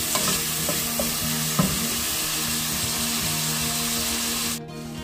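Pork belly sautés in its own fat in a pan, sizzling loudly and steadily while a utensil stirs with several clinks and scrapes, cutting off near the end.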